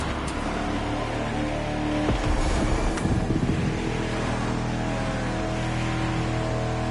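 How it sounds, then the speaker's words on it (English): A car engine idling and revving at a motor show, a constant low rumble with a louder swell of revs and some wind buffeting in the middle before settling back to a steady drone. "let's listen to this engine"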